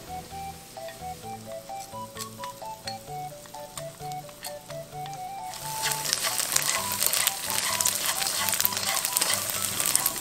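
Diced dried tofu and minced ginger dry-frying in a hot pan, a steady loud sizzle that swells into a dense crackling hiss partway through, with no talk.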